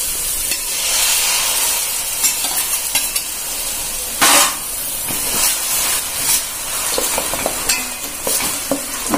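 Masala paste for Chettinad fish curry sautéed in a pan: a loud, close, hissing sizzle with repeated stirring scrapes and spatula knocks, no voices.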